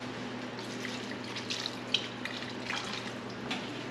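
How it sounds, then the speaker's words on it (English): Tap water runs into a can being rinsed in a home kitchen, a steady moderate trickle and splash with a few small clinks, close by and without talk. "I'm just gonna rinse this can with some water."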